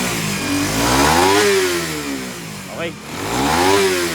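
Yamaha Raider FI motorcycle engine after a remap revs in loud, close rising and falling sweeps, two big revs separated by a brief dip, with a short spoken word partway through.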